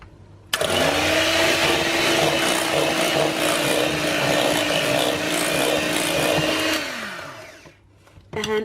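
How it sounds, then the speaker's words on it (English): An electric mixer whisks lemon whipped cream, its steady motor whine starting abruptly and running loud and continuous for about six seconds before winding down and stopping, with no talk over it. "And now we'll whisk that in."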